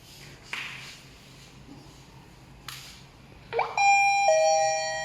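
A couple of soft clicks, then a smart lock's electronic doorbell chime rings out: a quick rising tone followed by sustained, bright ringing notes that linger to the end.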